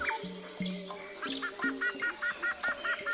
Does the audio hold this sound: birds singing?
yes